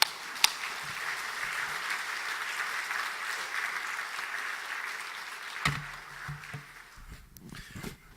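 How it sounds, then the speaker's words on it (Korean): Church congregation applauding to welcome a pastor, an Amazon missionary, at a Sunday evening service in Haeundae, steady broad clapping through most of the stretch, then thinning into scattered claps and small room noises near the end. "뜨겁게 박수로 환영하십시다."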